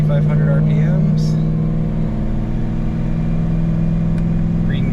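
A car runs in third gear on a chassis dyno while its engine holds steady around 2500 RPM, a loud continuous droning hum with a low tonal buzz. Voices talk faintly over it.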